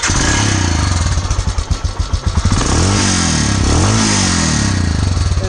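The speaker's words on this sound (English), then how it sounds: "This is the exhaust note on my Himalayan BS3." A Royal Enfield Himalayan BS3 motorcycle's exhaust booms up close, a loud pulsing single-cylinder thump with a couple of rising revs and throttle blips over a steady idle.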